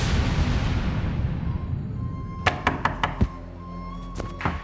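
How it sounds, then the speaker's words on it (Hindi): Someone bangs on a door in a Crime Patrol crime drama, a series of heavy, close thuds in uneven bursts of four, then several more, rising out of a fading rumble of background noise. "क्यों दरवाजा पीट रहे हो?"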